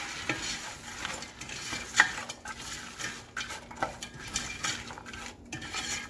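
Celery sautéing in a soup pot over medium-high heat, with a utensil stirring and scraping against the metal in irregular clinks over a soft, steady sizzle, close and moderately quiet.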